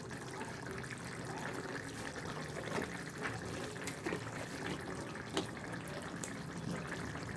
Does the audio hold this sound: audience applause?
no